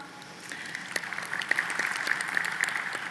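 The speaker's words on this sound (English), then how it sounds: "We'll continue the clapping" Audience applause at a formal education conference as guests such as ambassadors and executives are introduced, a steady patter of many hands clapping with a few sharper claps standing out, moderately loud and continuous throughout.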